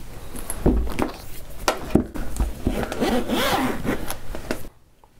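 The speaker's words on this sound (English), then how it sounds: "So it's got a zipper here." A zipper being drawn open on the carrying case of a Sony DMP-Z1 flagship digital music player, a close, steady rasping pull lasting several seconds before cutting to near silence.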